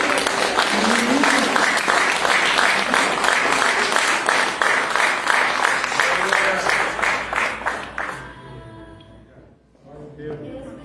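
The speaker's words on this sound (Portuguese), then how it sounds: "vamos dar um aplauso ao Senhor" A church congregation at a worship service claps for the Lord. The applause is loud and sustained for about eight seconds, then fades out, and voices come in at the end.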